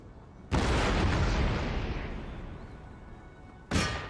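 Cannon fire against a fortress wall during a Prussian battle in Empire: Total War, one loud deep boom that rumbles and slowly fades over about three seconds, then a second sharp blast right at the end.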